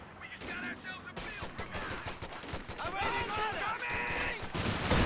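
Armour-piercing rounds fired in the strategy game Company of Heroes 2, rapid cracks and bursts of gunfire crowding a busy battlefield mix, moderately loud, with a voice talking over parts of it.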